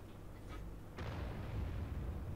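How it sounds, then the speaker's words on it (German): Artillery fires in World of Tanks, a quiet crack around the one-second mark followed by a low, rumbling boom that lingers under steady battle ambience. "Da hat die Arti geschossen, ist aber eine Batschat Arti."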